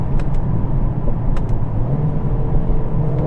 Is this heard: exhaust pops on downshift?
yes